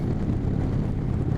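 Strong, steady wind roar buffeting the microphone while riding a 2019 Indian Chieftain Dark Horse cruiser motorcycle, with dense low rumble and no talking.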